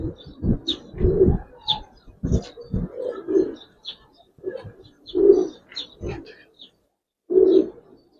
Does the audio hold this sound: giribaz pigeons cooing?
yes